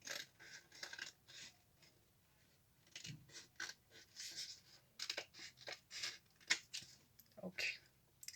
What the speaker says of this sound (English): We have to cut this with the scissors in a round shape.